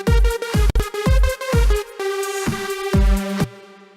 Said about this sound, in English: Today I'm going to show you how to make a solid lead using Sylenth 1.